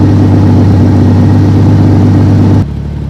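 A 1996 Jeep Cherokee XJ 4x4 engine idles while warming up, a loud, steady low rumble close by that drops suddenly quieter near the end.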